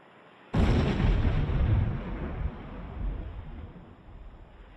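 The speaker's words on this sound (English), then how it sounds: "a distress rocket suddenly flared from one of them and hissed into the grey sky" A distress rocket fires from a ship near a vessel run aground in a cove, opening with a sudden loud boom and a roaring whoosh that slowly fades over several seconds.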